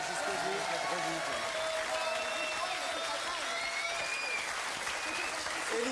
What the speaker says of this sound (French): on peut l'applaudir aussi très fort